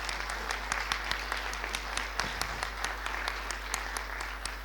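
Audience applause fills a hall after a debate session, a steady dense clapping that holds at an even, fairly loud level throughout, with scattered sharper claps standing out.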